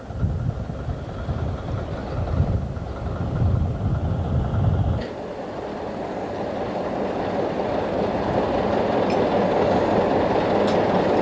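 A Canadian Pacific Railway freight train rumbles steadily past nearby, a continuous heavy roar of rolling cars with faint rattling and squeals, no talking.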